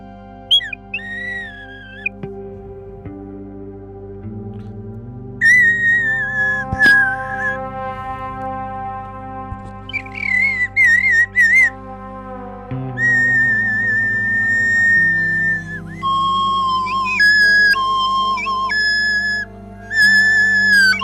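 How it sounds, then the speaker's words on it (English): A small water whistle is blown in a series of warbling, fluttering high tones with pauses between phrases, loud and close over sustained low ambient tones during a cinematic ambient composing session. "not getting a sound I like out of this little water whistle"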